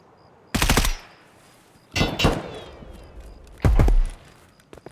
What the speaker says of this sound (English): Oh, I hear shots.